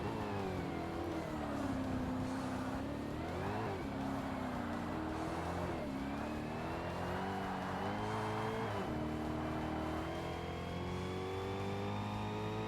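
A Swedish supercar's engine roars continuously in the Forza Motorsport racing game, its pitch climbing and dropping through gear shifts with a steady, loud drone throughout.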